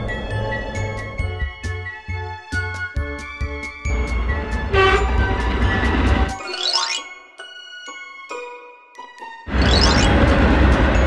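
A train passes with clanking, ringing rail noise and a sustained horn blast, followed by a rising screech and then heavy rumbling, loud and close.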